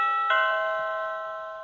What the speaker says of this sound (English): It's just about the doorbell that I got from Big Lots last year